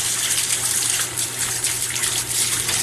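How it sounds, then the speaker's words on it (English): Hot water gushes steadily from a bathroom tap, a continuous hissing, splashing stream close by with no voices. "turn on my hot water."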